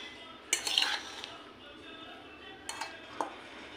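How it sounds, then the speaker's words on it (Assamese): A spoon mixes hog plum (amara) pickle with turmeric powder in a bowl, giving a cluster of close metallic clinks and scrapes, then a quiet pause and a few lighter taps. "এতিয়া এইখিনি ভালদৰে মিলাই ল'ম।"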